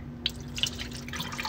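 Water dripping into a kitchen sink during washing up, a few bright drips and small splashes over a faint steady hum, close and soft with no talking.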